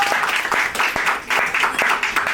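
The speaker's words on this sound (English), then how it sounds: "Clap it up for me, please." An audience applauding as a poet is called up to perform, a dense, loud, steady wash of many hands clapping together, continuing unbroken and filling the room.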